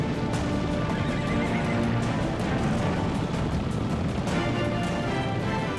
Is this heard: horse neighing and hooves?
yes